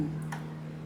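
A torque wrench gives a single sharp click while tightening a rear-set bolt on a CFMOTO 675SR-R motorcycle, heard close against a low steady hum.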